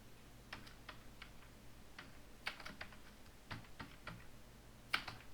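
A computer keyboard is tapped in sparse, irregular keystrokes, with single clicks and small clusters spread over a few seconds, quiet and close over a low steady room hum.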